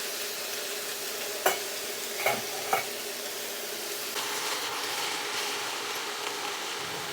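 Cabbage frying in a pan with oyster sauce about to go in, stirred with a few sharp scraping clacks early on over a steady close sizzle; no talking.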